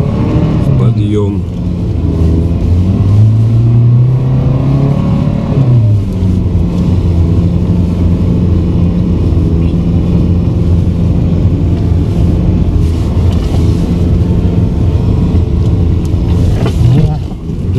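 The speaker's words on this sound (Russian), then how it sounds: "Едем вне дороги." A car engine labours as the vehicle drives off-road uphill on a mountain track in strong wind. The loud, droning rumble rises and falls in pitch with the throttle and continues without a break.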